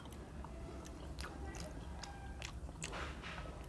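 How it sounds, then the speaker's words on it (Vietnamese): Someone bites into a chewy, colored dough ball filled with crunchy peanuts, making a string of sharp, close crunching and chewing clicks over a steady background hum. "Cục bột dai dai cắn vô đậu phộng giòn gụm thơm ngon."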